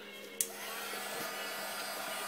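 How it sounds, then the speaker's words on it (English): A heat gun blows hot air across a paper greeting card as a steady, loud broadband whoosh, starting with a brief click and then holding an even roar throughout. "I'm just gonna take my heat gun"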